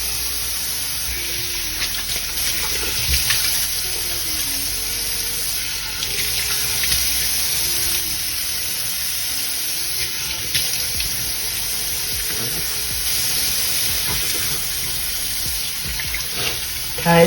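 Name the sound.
water running from tap while rinsing face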